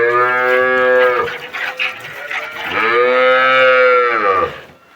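A Red Friesian dairy cow lows twice, long loud moos close by, the second rising and falling, with a brief pause between and no talk.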